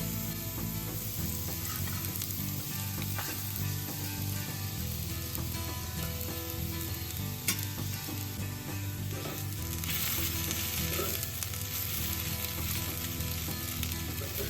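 Sago pearls and green chillies frying in ghee give a steady, dense sizzle that stays loud and even throughout, with stirring and pan scraping mixed in and no one speaking.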